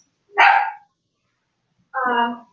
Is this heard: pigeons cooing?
no